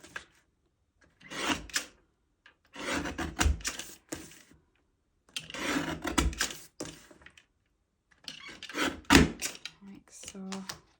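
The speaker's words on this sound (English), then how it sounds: "I'm just going to bring in my trimmer just to trim those pieces off." A paper trimmer cuts excess pieces off a handmade card, making several short bursts of sliding and clicking close by with quiet pauses between strokes.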